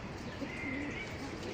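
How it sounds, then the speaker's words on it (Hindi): A yellow-eyed racing pigeon, about twenty years old, coos softly in a few low, drawn-out notes against steady background noise, with no talking. "ये देखो पीली आंख का कबूतर है"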